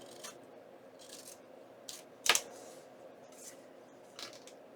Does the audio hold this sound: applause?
no